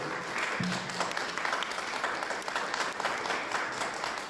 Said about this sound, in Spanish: Vamos a darle un fuerte aplauso a Cristian López, por favor